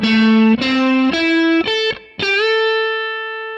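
A short minor pentatonic blues phrase on electric guitar, five notes stepping upward with a brief gap before a final bent note that sustains and slowly decays.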